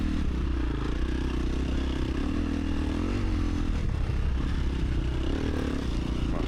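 A motocross bike in a cross-country race drones loudly and continuously up close, its engine note rising and falling slightly with rattling clatter over rough ground and no pauses.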